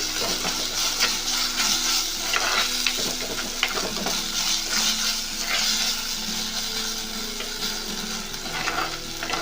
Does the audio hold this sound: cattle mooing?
no